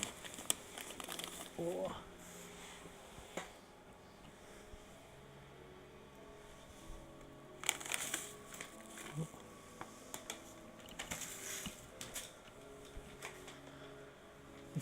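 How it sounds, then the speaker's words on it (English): A pet bunny rustles and crinkles a plastic bag while eating pretzels from it, giving faint, intermittent crackling bursts over quiet room tone, with a soft voice murmuring briefly. "If you hear the rustling of a bag, my bunny is eating some pretzels out of a bag"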